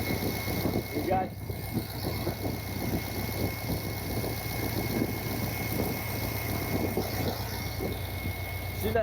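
A 1979 Corvette engine idles with a steady low rumble and an odd recurring mechanical noise, close and continuous while someone talks over it.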